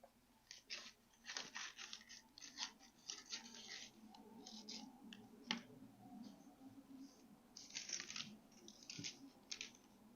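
Scissors snip through a paper pattern for flared shorts in bursts of crisp, fairly close cuts with short pauses between, over a quiet room background.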